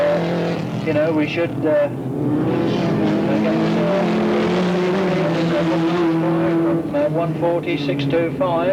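Hand-built race cars with 2-litre Ford Pinto engines race at Alwalton Raceway, their engines droning and rising in pitch continuously under a commentator's voice.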